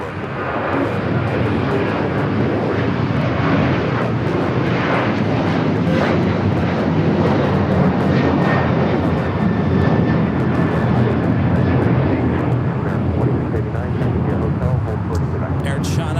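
A United Airlines jet takes off from runway 25 right at LAX, its loud, steady engine roar filling the whole stretch without letup, with voices talking over it.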